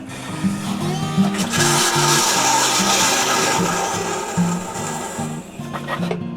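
Compressed air hisses and rushes through an RV toilet's water line while it is blown out for winterizing, a loud continuous blast with sputtering surges and no talking.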